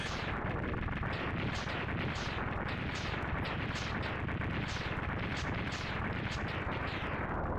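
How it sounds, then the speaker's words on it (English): A long, drawn-out explosion sequence from the Mega Man X2 video game: a rapid, unbroken chain of crackling blasts repeating in quick pulses for several seconds, loud and steady with no talking. "That was a long-ass explosion."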